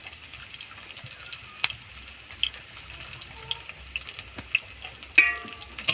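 Onions going into hot oil, a soft continuous sizzle with scattered clicks and light clatter, fairly quiet and close.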